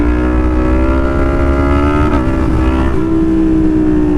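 A Yamaha MT-07 motorcycle in second gear roars loudly and close as the throttle opens for a wheelie, its engine note holding strong and rising slightly, then settling.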